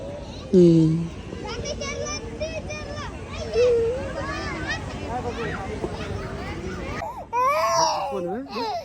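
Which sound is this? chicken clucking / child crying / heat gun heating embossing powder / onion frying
child crying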